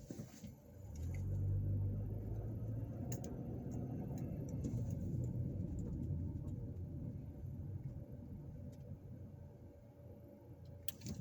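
A car drives slowly through the residential neighborhood where the Jackson family grew up, heard from inside as a steady low engine and road rumble with faint ticks and no talk.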